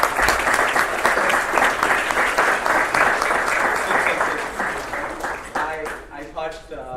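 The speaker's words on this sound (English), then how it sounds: "I wanted to take the opportunity to really give a big round of applause" Loud, sustained applause from an audience at a closing ceremony for an international doctors' T20 cricket league in Dubai, steady dense clapping that fades toward the end.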